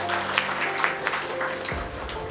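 Audience applause at the opening ceremony of Moazzem Hossain Johny's first solo art exhibition, a steady, dense patter of many hands clapping throughout.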